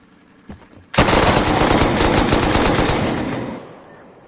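Automatic gunfire in the online survival game Rust, a loud sustained burst of rapid shots lasting about two and a half seconds before tapering off, with a faint voice just before it.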